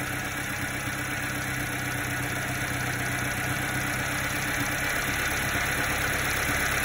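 A Subaru Sambar engine idles steadily while its carburetor idle mixture screw is turned, a continuous mid-pitched hum with a faint rhythmic knock, close and alone with no talk.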